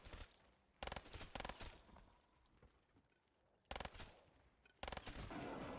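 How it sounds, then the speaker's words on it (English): Gunfire in the zombies mode of the video game Black Ops 3: thin, light-sounding shots in several separate bursts, loud and close, with quieter game ambience filling the gaps. "to Black Ops 3's detriment that the gunshots don't really sound very realistic"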